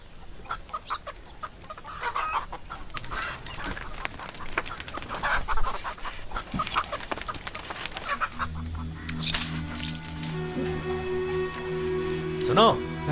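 A hen clucks in a household scene from a Hindi-dubbed South Indian film, with repeated close clucks under people talking, and music with steady tones coming in toward the end.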